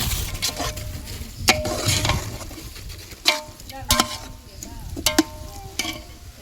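Chicken biryani masala frying in a home cooking pot while it is stirred, with a steady sizzle and a few sharp spoon scrapes and clinks against the metal.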